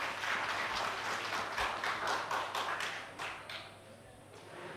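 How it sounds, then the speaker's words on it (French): Audience applauding in a hall at a cultural day event, a short burst of clapping from a modest crowd with distinct hand claps that fades after a few seconds. "j'aimerais que vous applaudissiez pour ces personnes"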